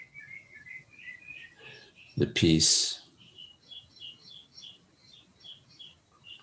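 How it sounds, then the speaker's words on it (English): Birds chirp and sing in a steady run of short repeated high calls, interrupted by a brief loud noise in the middle, with soft speech at a low level. "the singing of the birds,"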